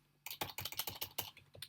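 Fingers type quickly on a computer keyboard, a close, crisp run of about a dozen rapid key clicks in a quiet room.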